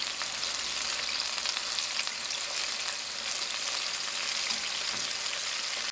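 Sesame chicken pieces frying in hot oil, a steady, close, continuous sizzle with no voices.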